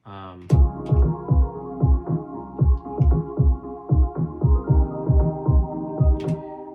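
Music with a high-pass filter applied plays with a steady pulsing bass line and sustained chords, muffled and thumping, looping evenly throughout with no talking.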